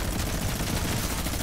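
Dense gunfire from the Fortnite video game, with rapid overlapping shots from the new junk rifts weapons forming a continuous loud barrage throughout, with no voice over it.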